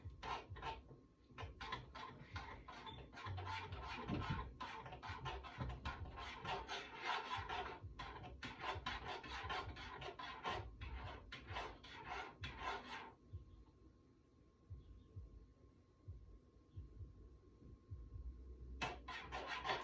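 A spoon scrapes and stirs thick Jamaican cornmeal porridge in a pot, a busy rapid rasping that runs for about thirteen seconds, pauses to near quiet, then resumes briefly.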